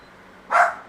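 A single short, sharp dog bark rings out close by against a quiet background, with no other sounds around it.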